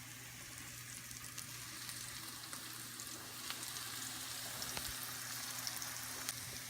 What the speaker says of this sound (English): As you can see, the onions are turning golden brown.